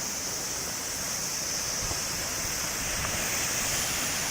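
A waterfall in Glen Affric, Scotland roars as a steady broad rushing wash of falling water, constant and fairly loud throughout, heard alone without talk.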